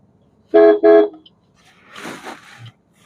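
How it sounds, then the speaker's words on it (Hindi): Two loud car horn blasts in quick succession on a road in Sikar, Rajasthan, followed by a fainter rumble of passing traffic and a brief distant honk. "थोड़ा सा डिस्टरबेंस हो जाता है ट्रैफिक में।"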